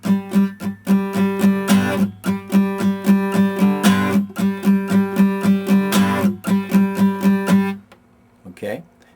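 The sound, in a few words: guitar strumming with left-hand mute on the 1 beat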